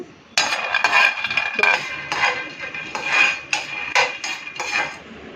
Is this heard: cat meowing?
no